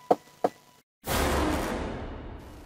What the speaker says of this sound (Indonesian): Aku kemudian mendekati pintu itu dan mengetuknya